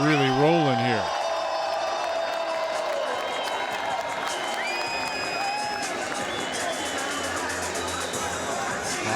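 A crowd at a Lingerie Football League game between Miami and Tampa cheers and claps steadily in a broad, distant wash of noise, with a short voice at the start and chatter beneath.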